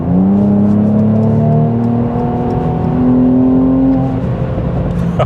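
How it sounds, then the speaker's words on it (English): A 400 hp Mercedes-AMG C43 in Sport Plus mode revs loudly from inside the cabin, engine and exhaust climbing through steady rising tones and then easing off. "Already you can hear that engine, it's ready, the exhaust is ready."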